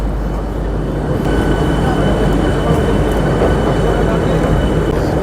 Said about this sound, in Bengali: চলে এলো এসি লোকাল আমাদের পশ্চিমবঙ্গের প্রথম এসি লোকাল রানাঘাটের পাঁচ নম্বর প্ল্যাটফর্মে চলে এসছে